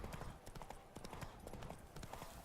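The horse Roach's hooves clip-clopping in The Witcher 3, a quick steady trot of sharp, fairly close hoofbeats on hard ground, somewhat quiet overall.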